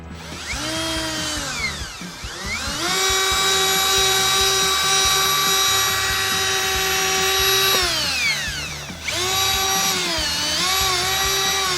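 A power drill buffing a foggy car headlight, a high whining tone that rises, holds steady for several seconds, drops off and spins up again, close and loud.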